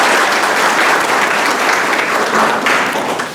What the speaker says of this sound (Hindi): तो एक बार स्वामी जी के लिए हम लोग जोरदार तालियां बजाएंगे